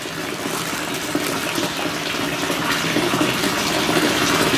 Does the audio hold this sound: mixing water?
yes